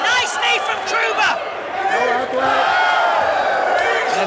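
A Thai crowd roars and yells loudly and continuously at an Enfusion kickboxing semi-final between Daniel Sam and Kirk Krouba, while commentators talk over the noise.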